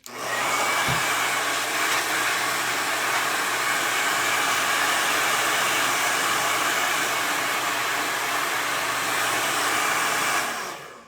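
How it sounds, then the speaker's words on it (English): A hair dryer blows steadily on a wet art journal page, a loud continuous whooshing roar switched on near the start and cut off just before the end, with no talking. "I'm gonna blow dry it a little bit more"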